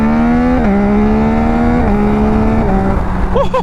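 A 2021-or-later Yamaha MT-09 motorcycle engine with a flashed ECU drones loudly and steadily, its pitch stepping up and down in a few abrupt shifts as the throttle changes.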